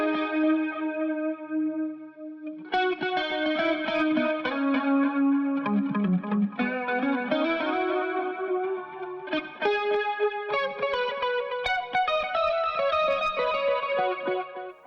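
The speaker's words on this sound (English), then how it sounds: "And then we have this final guitar solo." Electric guitar solo drenched in echo, reverb, chorus and heavy compression, sustained melodic notes ringing out loud and alone, with a pause near the start before the phrases resume and bend through the passage.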